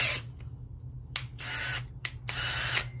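A Ryobi cordless drill whirs in several short bursts with brief pauses, a steady low motor hum underneath, fairly close.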